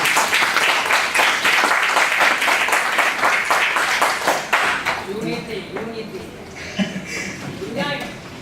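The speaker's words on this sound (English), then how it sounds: "you guys deserve a round of applause actually" Audience applause fills a media freedom forum, dense steady clapping for about five seconds before fading into scattered claps and voices talking.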